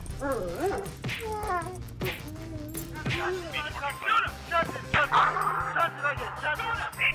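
A dog yips and whimpers in short, agitated bursts, with excited voices talking over it and some background commotion.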